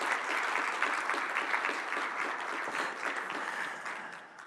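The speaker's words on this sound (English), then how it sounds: "we should really, first of all, just start with a little round of applause for the Czech presidency" Applause from the audience at the 2022 EASA Annual Safety Conference, a steady round of many people clapping in a hall, fairly soft and even, slowly fading over several seconds.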